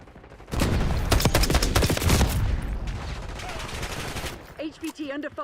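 Close bursts of automatic rifle fire in the Black Ops 6 beta rattle off rapidly for several seconds, then thin into scattered shots, with a brief voice-like sound near the end.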